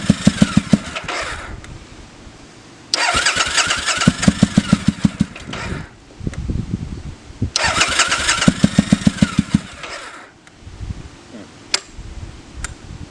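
A Triumph Bonneville America motorcycle, started after years stored in a shed, cranks and catches twice with rough, uneven idling that sounds as if firing on one cylinder, close and loud, dying back between attempts.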